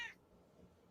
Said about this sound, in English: my cat's over here hollering